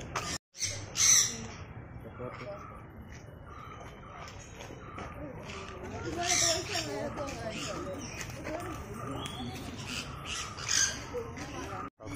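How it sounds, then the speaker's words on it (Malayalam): Birds squawk and call repeatedly at Thiruvananthapuram Zoo, some sharp and caw-like, while people talk nearby throughout. "പക്ഷികളുണ്ട് നമുക്ക് എന്താന്ന് കണ്ടു നോക്കാം പക്ഷികളാണ്"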